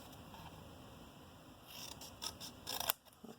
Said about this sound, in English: then just cut along that top score line